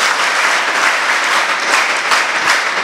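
A room full of students clapping together, loud and continuous, with many hands blending into a dense, sustained roar of applause that holds steady throughout.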